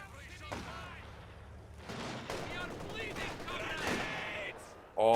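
An artillery barrage in a competitive multiplayer strategy game match sends a series of booming impacts and crackling gunfire, rising in intensity toward the end, with voices mixed in at times.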